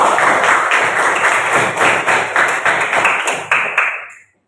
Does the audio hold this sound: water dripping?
no